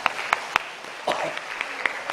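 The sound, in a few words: church congregation applauding in encouragement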